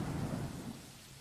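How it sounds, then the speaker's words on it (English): Thunder rumbling through a thunderstorm with falling rain, a dense low roar that fades slightly over about a second. "Or thunder."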